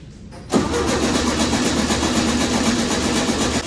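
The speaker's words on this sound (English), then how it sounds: "go crank the engine over a little bit for me" A 1967 Volkswagen Beetle engine with a varnish-filled carburetor catches and runs steadily after a brief quiet moment, a loud continuous mechanical drone with no voices.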